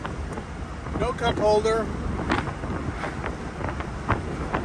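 Open 1969 Mercedes-Benz 280 SL roadster accelerating on the road, with steady broadband wind rush over the cockpit and engine drone beneath, while a person speaks briefly over it.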